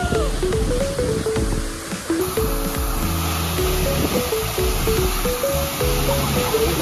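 Tallest waterfall in Ilocos Sur, heard up close as a steady, loud roar of rushing water that continues throughout, with people talking over it.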